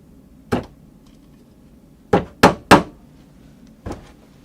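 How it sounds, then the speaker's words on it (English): An upholsterer's trade hammer tacks fabric onto an 1800s sofa frame: one sharp tap, a pause, then three quick close blows and a final lighter strike, fairly close against a quiet room. "That's the best trade hammer for upholsterers that you can get."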